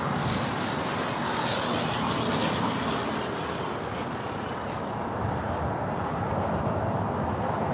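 A Lufthansa Airbus A340-600 four-engine jet airliner at LAX produces a loud, continuous broadband roar with strong high hiss that swells and eases slightly, heard alone without speech.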